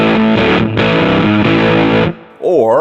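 An electric guitar through a Crazy Tube Circuits Venus tube drive pedal with the tube biased gnarlier rings out in thick distorted chords, loud and close, ending with a short bent note.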